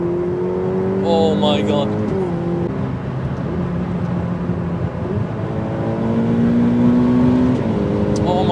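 Ferrari 488 Pista supercar accelerating hard under heavy turbo boost on the Autobahn, a steady loud engine drone climbing through rising pitch sweeps with gear changes, heard from inside the cabin with a brief exclamation from the driver.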